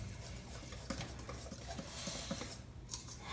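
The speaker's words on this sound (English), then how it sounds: "now I'm going to whisk these together" Eggs are whisked together in a bowl for pancake batter after the yolks are crushed, making quick, light, repeated clicks and taps of the whisk against the bowl, fairly soft and close.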